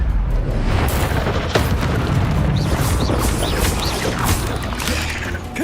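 A Confringo blasting spell explodes in Hogwarts Legacy, a loud continuous booming rumble with crackling debris and faint whistling chirps over it, filling the whole stretch without speech.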